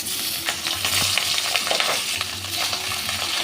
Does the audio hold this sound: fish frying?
yes